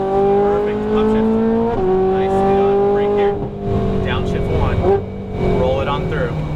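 Ferrari 458 Italia V8 screaming at full throttle around the Las Vegas Motor Speedway track, a loud, sustained high-revving wail with rising pitch and a brief upshift dip, while an instructor talks over it throughout.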